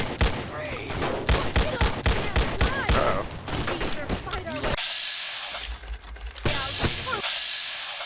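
Rapid bursts of automatic gunfire and single shots in Fallout: New Vegas, loud and dense, with a voice talking over the shooting.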